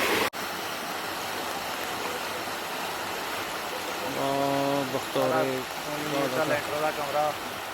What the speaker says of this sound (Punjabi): ਪਾਣੀ ਦੀ ਰਫ਼ਤਾਰ ਬਹੁਤ ਤੇਜ਼ ਦੇਖ ਸਕਦੇ ਤੁਸੀਂ